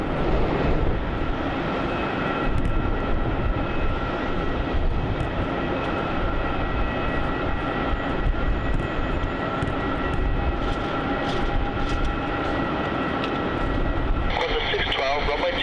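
A Qantas airliner on runway 27 at Melbourne Airport, its engines roaring steadily and loudly throughout, with air traffic control radio voices talking over the noise.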